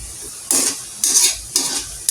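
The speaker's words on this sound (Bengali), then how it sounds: "একদম হাই হিটে পিঠাটা ভেজে নিচ্ছি" Semolina pitha (sujir pitha) frying in hot oil over high heat, with loud sizzling bursts recurring about every half second, alongside stirring and turning noises in the pan.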